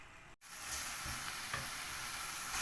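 Chicken shawarma sizzling steadily in a pan, a continuous close hiss and crackle with a few soft stirring scrapes, after a brief silent gap at the start.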